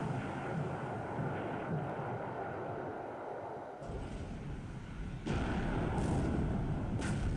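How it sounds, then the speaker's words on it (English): A torpedo strikes a cargo ship in the naval strategy game War in the Pacific, heard as a dense, rumbling roar of explosions that swells abruptly twice and then holds loud and steady. "And I think this was the second torpedo hit already."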